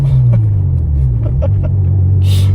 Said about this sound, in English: This car's actually got a modified exhaust